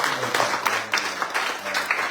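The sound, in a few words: round of applause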